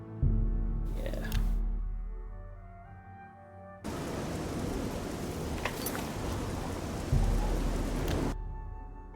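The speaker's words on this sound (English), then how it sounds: "So it's always raining." Steady rain falls in the video game Beyond Skyrim: Cyrodiil, a broad hiss that starts abruptly and runs loud and even for several seconds before cutting off.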